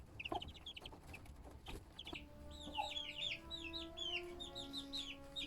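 Adult chickens clucking in a backyard coop, several soft overlapping clucks and chirpy calls close by, fairly quiet and continuous.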